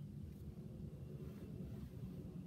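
A steady, broad low rumble like an airplane droning overhead, constant and fairly loud throughout, with a windy, noisy wash over it.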